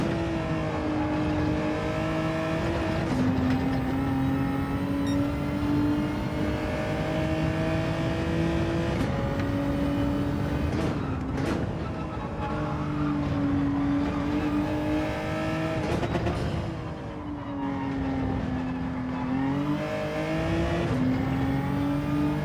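Racing engine of a BMW M4 race car in Gran Turismo 7, a steady loud drone with rising and falling pitch through gear changes, continuous for the whole stretch.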